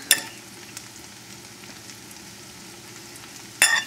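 Escargot snails sizzling in a pan, a quiet, steady sizzle close by, broken by two sharp metallic clinks at the start and near the end.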